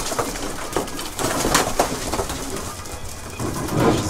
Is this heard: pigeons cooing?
yes